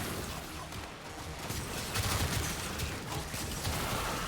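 The ATOMOS weapon in Warframe firing continuously, producing a dense, crackling stream of rapid energy bursts with no break across the stretch.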